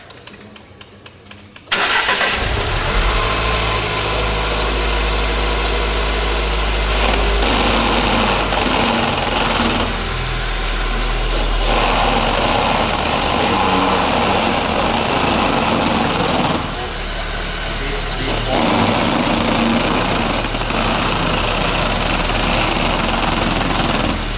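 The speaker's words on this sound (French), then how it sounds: "André, tu peux mettre en marche la voiture et tourner les roues 5 fois à gauche, 5 fois" A car engine cranks over briefly and catches during power steering fluid cleaning, then settles into a loud, steady idle that drones on with slight surges in tone.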